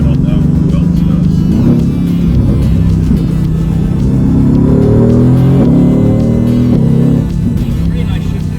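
Mercedes GT-R sports car engine revving up and down through gear shifts, a loud deep drone that rises in pitch and drops between changes, with people chatting inside the car.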